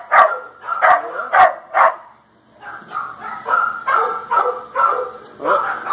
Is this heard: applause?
no